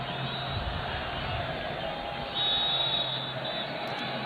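Stadium crowd at a Sudan versus Chad World Cup qualifier football match chanting a player's name, a dense continuous roar of massed voices with no speech in the foreground.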